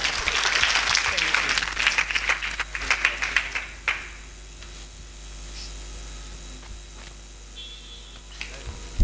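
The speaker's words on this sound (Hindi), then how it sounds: "इनके नाम से जोरदार तालियां का स्वागत।" An audience at an ashram gathering claps loudly for an arriving guest, with dense applause that fades after about four seconds into quieter room noise with scattered claps.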